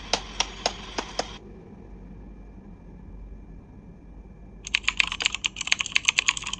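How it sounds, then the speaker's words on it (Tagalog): Computer keyboard typing sound effect of the kind added in a video editor: two quick bursts of crisp, close key clicks separated by a quieter stretch of faint hum. "pwede siya lagyan ng keyboard na sound"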